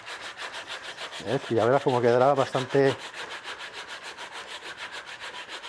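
Sandpaper is rubbed by hand over the wood of a 1950s-style wooden children's downhill cart, with steady, rapid, evenly repeating strokes throughout and a person talking briefly over the middle.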